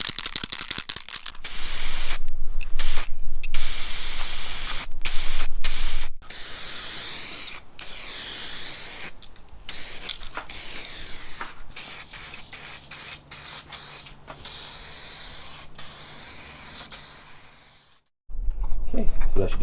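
Two-part clear coat sprays from an aerosol can in long hissing bursts separated by short pauses, close and loud, with a faint rattle and brief handling noises near the end.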